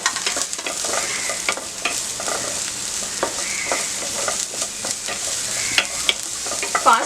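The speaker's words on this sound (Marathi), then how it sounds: "फास्ट गॅसवरच आपल्याला हे सगळं सॉटे करायचं आहे" Onion sautéing on a high gas flame in a pan for Schezwan masala Maggi, giving a steady close sizzle with frequent scraping stir strokes throughout.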